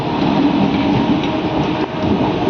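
A train pulling into Mangaluru Central station platform, heard from on board as a steady, loud rolling rumble and rattle of the coaches, continuous and close without a break.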